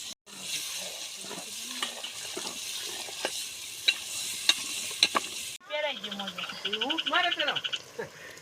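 Pav bhaji vegetables frying in a pan, a sizzle with sharp stirring clicks, followed by a section of croaking, chirping calls; people talk at points.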